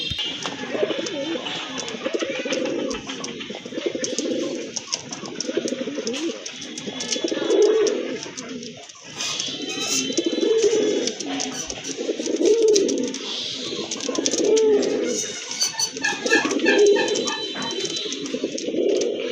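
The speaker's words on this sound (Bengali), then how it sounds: "এটা হচ্ছে আপনার রাজগোল্লা কবুতর" Rajgolla fancy pigeons coo in a steady rhythm of soft, low calls repeating about every two seconds, close by, with occasional faint chirps and a little distant voice in the background.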